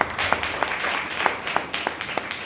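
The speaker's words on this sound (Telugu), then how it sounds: "అందరూ సార్ చప్పట్లు కొట్టండి గట్టిగా" A crowd at a Jesus Calls partners meet in a church setting claps loudly and steadily, a dense wash of hand claps with a few sharper strikes standing out.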